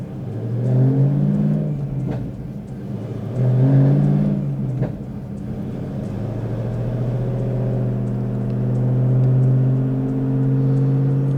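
A BTR Stage 3 LS3 Camaro running E85 revs on a dyno, with two quick rising blips followed by a long sustained climb in engine note, loud and steady with no talk.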